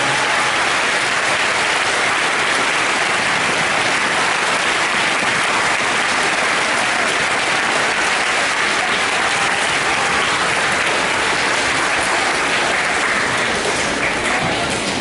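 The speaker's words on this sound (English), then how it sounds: "I think we all owe him an enormous round of applause" An audience claps loudly and continuously for tour organizer Jason, a dense, even roar of applause held at full strength throughout without letting up.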